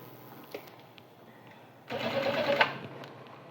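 A sewing machine stitching a shirt collar runs in one short, close whirring burst of about a second after a quiet stretch with a few small clicks.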